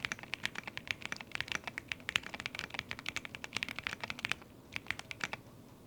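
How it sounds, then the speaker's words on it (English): Fingers type quickly on a keyboard with a retro IBM-style feel at a cozy desk setup, giving a close, steady stream of crisp clacky keystrokes with a brief pause near the end. "which has that nice kind of retro IBM keyboard feel and has a pretty decent sound"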